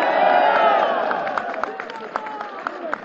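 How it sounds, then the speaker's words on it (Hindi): A large crowd at a political rally in Peshawar claps and cheers loudly, a dense burst of applause and shouts that thins into scattered claps. "लगाओ ना ताली यार।"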